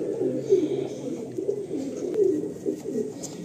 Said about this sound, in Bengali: না, এই দুটোই নর পায়রা, এই দুটো নর পায়রা